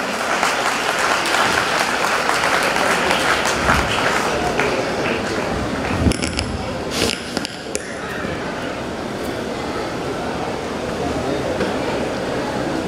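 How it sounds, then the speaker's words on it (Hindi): A crowd in Silchar greets Shri Gulab Chand Kataria, Governor of Assam, with loud, dense applause that fills the hall, broken midway by a few sharp thuds and clicks before the clapping continues more evenly. "एक बार जोरदार तालियों से अभिवादन"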